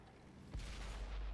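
A tank cannon fires once in World of Tanks, playing an M22 Locust tank on PS4, a single deep boom that arrives suddenly and then rolls into a sustained low rumble.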